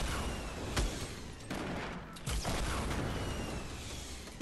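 Gunfire in Fortnite Battle Royale while a player is being shot at, with a few sharp cracks and thuds over a steady, noisy game background at moderate loudness.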